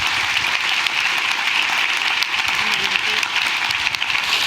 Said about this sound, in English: can we get a round of applause for Gerald, please?